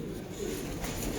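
Low, soft cooing from a male pigeon, a single murmuring coo over a faint steady background, close by and quiet.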